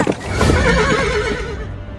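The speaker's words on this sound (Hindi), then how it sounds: "अबे रुक जा घोड़ा" A horse gives one loud, close neigh lasting about two seconds, rising sharply and then trailing off.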